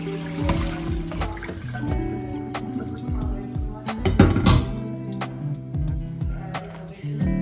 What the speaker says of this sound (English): Now we drain before the final stage.